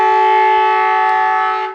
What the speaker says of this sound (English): the siren has sounded